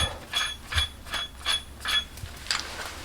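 A wheel bearing puller for a Land Rover Discovery 2 is worked open and slid into place, giving a regular series of ratcheting metallic clicks and creaks, about one every 0.4 seconds, up close.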